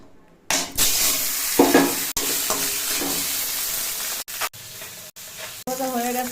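Fish frying in hot oil in a home kitchen while cooking kochur loti (taro stolon curry), a steady close sizzle and hiss with a few sharp utensil knocks and a brief voice near the end.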